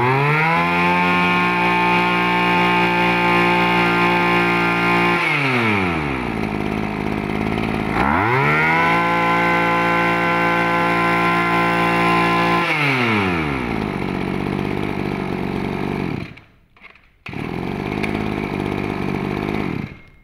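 A small two-stroke chainsaw engine, a used Japanese machine, runs loud and close, revving up and down in repeated cycles with brief drops to idle and a short cutoff near the end.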